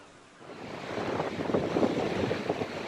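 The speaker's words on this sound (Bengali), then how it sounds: "এত হাওয়া আর এত ঠান্ডা, এত হাওয়া দিচ্ছে, এত ঠান্ডা।" A strong cold wind blows at the seashore on an island near Houston, buffeting the microphone in a loud, continuous gusty roar that swells after a quieter start.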